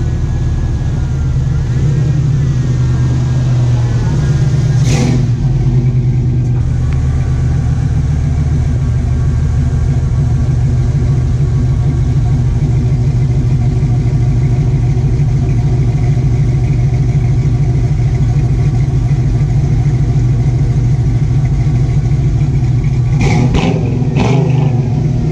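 An old truck engine rumbles loudly and steadily up close for the whole stretch, with a deep continuous drone and a few brief sharp knocks or clatters near the start and end.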